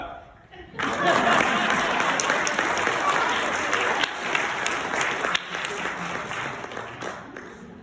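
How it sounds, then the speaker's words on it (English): Applause from an audience at a church Valentine's fellowship, starting abruptly and sustained as dense, steady clapping that tapers slightly toward the end. "You can clap."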